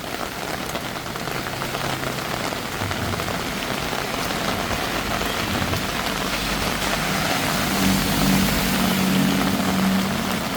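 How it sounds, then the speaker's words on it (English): Monsoon rain pouring onto a Bangkok street, a steady, dense hiss of heavy rainfall on pavement that stays loud and continuous, with a low hum joining near the end. "Yeah, the rain is laying down a little bit already."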